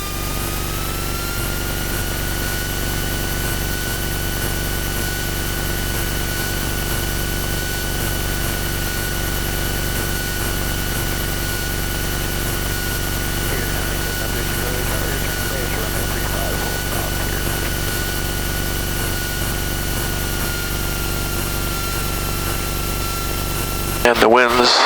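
A Luscombe light airplane taxis with its engine running, a loud steady drone with a constant whine that stays unbroken throughout from close inside the cabin.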